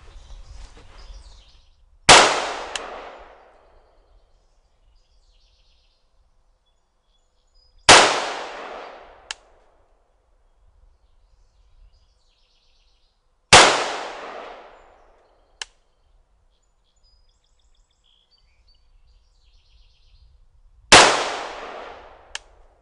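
A Polish Archer AK rifle fired at a 100-yard outdoor range: four loud, sharp shots spaced several seconds apart, each with a brief decaying echo and a faint metallic clink between, otherwise quiet.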